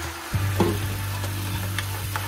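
Egg mixture for dashimaki tamago poured into a hot, oiled pan over medium heat, a close, continuous sizzle with a few small crackles and utensil taps, no voices.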